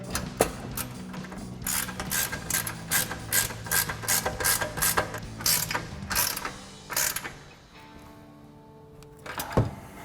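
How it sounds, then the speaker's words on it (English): Close, crisp ratcheting clicks come in a fast regular run for about seven seconds as a 21mm ratcheting wrench tightens upper control arm bolts on a 2019-2024 RAM 1500. A quieter stretch and a final click follow. "We're gonna use our 21mm ratcheting wrench."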